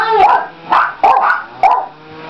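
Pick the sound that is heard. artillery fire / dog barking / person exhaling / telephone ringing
dog barking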